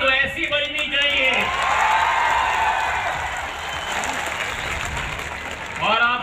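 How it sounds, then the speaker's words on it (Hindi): A young college audience applauds, a dense wash of clapping that swells and holds, with a speaker's voice over it at the start and end. "ताली तो ऐसी बजनी चाहिए।"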